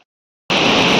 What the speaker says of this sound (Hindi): साफ पानी।